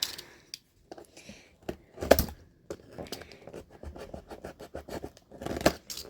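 A knife slices open a craft-supply haul package with a run of short, crisp cutting and scraping strokes, mixed with crinkling packaging. The sounds are close and irregular, with brief pauses between them.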